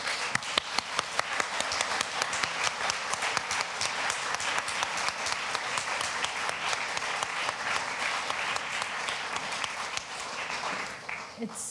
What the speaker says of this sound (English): I'd like to just offer a big round of applause for all of our poets this evening